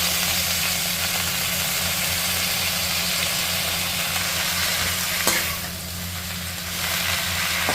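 Washed Kaasi leaves (madathakali keerai) with their seeds sizzle in half a spoon of oil in a kadai. A loud, steady frying hiss runs throughout and eases briefly near the end.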